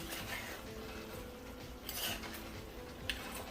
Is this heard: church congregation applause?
no